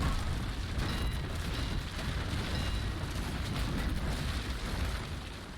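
A naval cannon firing grape shot in the Naval Action sailing game, a dense continuous rumbling roar of heavy gunfire and booming that stays loud throughout with no talking.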